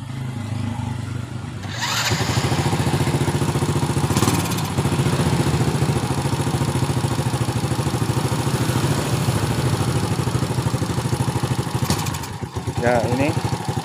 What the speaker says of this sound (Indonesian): Jadi saat dihidupkan, ini motornya hidup langsam, tetapi tidak mau digas.